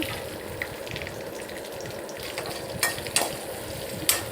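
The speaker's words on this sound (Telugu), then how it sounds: "పోపు మొత్తం బాణలో కళాయిలో వేసి వేయించుకుంటున్నాను." Steady sizzling and crackling of a spice tempering frying in hot oil in a kadai for tomato rice, close up, with a few sharper pops near the end.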